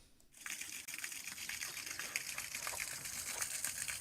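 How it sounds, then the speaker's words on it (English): An old water wheel churns water with a continuous gushing, splashing rush that starts abruptly after a brief quiet moment and holds steady at moderate distance. "the old water wheel's still churning"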